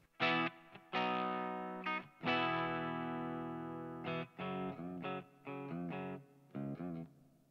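Clean electric guitar played through an Orange Super Crush 100 solid-state amp with gain at about a quarter, a short phrase of sustained chords and picked notes, close and clear with little distortion.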